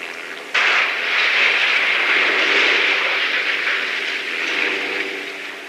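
A train approaching a crash test site at the climax of a research program, a steady loud rumbling roar that swells in abruptly and holds as it draws near, with no talk.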